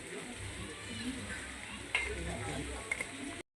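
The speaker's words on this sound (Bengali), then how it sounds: "বড়াগুলো আমার এরকম ভাজা হয়ে গেছে একটু লালচে লালচে" Lentil fritters (bora) fry in oil with a soft, quiet sizzle, punctuated by a couple of small utensil clinks against the pan.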